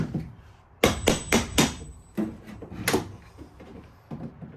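Charred trim being pulled off a fire-damaged ceiling, with a burst of several sharp knocking and cracking impacts in quick succession, then two more separated bangs and softer taps, close and loud in a quiet room.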